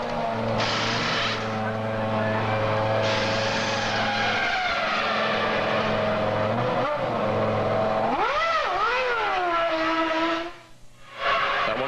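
Formula One cars at the 2000 German Grand Prix roar past, their engine notes rising and sweeping as a group goes by, heard behind a commentator's voice.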